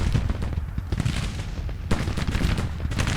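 Dense Civil War battle gunfire from a strategy video game, a continuous crackle of massed musket volleys with overlapping rapid shots, loud and sustained throughout with no pauses.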